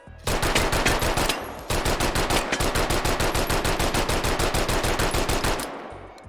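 Sten submachine gun in the VR game H3VR firing two long full-auto bursts of sharp, evenly spaced shots, loud and close, separated by a brief pause.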